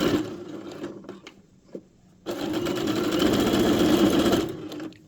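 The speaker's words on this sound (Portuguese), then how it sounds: "Costurar a lateral do punho," A sewing machine stitches the side of a cuff on a pet dress, loud and close, running in a short burst and then a longer steady whirring run, with no one talking.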